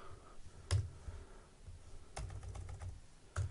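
A few separate key presses typing numbers on a computer keyboard, sparse close clicks and taps over a quiet room background with no speech.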